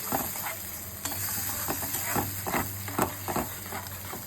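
A spice paste sizzles and hisses in a hot pan while a spoon stirs it, with irregular scraping strokes and soft patter over a continuous frying hiss.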